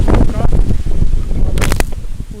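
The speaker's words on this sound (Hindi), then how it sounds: "ये तेज हवा का झोंका" A strong gust of wind sweeps over open farm fields, roaring and buffeting loudly against the microphone for a couple of seconds, with a harsher rushing burst toward the end.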